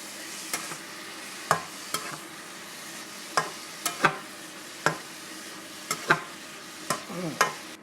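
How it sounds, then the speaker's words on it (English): Food being mixed together in a pan, with a faint sizzle underneath and repeated sharp clicks and taps of a utensil against the pan at an irregular pace. "We'll mix it all together"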